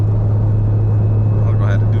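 Big-turbo BMW 335i with a 3.5-inch exhaust drones steadily and loudly from inside the car, with a short rising turbo whistle climbing in the last half second.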